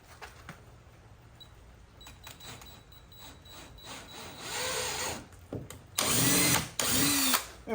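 A power drill bores holes into the rear end of a car, whirring in short bursts that grow louder and longer toward the end, with quieter handling noises before.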